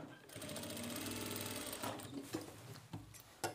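A sewing machine stitches a pen pocket, a fast close whirring run of needle strokes for about two seconds, then stops, followed by a few quiet handling clicks and thumps.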